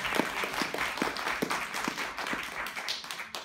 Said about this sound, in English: Can we clap all of our guests?